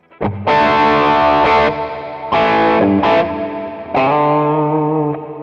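Distorted electric guitar through a crunchy Marshall Plexi amp simulation on a LEKATO Tank-G effects processor, a few strummed chords ringing out with pauses between them, loud and close.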